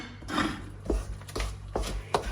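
A spoon stirring wet focaccia dough in a bowl, close-up with rhythmic soft thuds and squelchy scrapes roughly every half second, moderately loud and alone.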